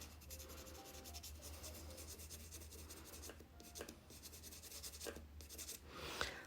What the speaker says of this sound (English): I'm going to use my watercolor pencil again, and I'm just going to lightly color it gray